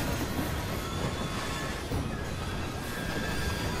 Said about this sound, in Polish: Pociąg